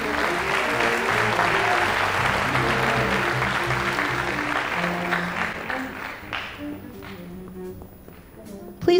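Audience at a high school formal assembly applauding two honorees, a broad clapping wash with background music tones underneath that thins and fades toward the end.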